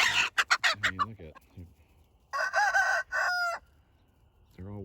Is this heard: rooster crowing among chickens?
yes